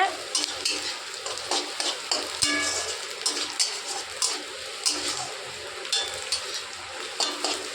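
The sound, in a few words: onions being stirred and fried in a kadai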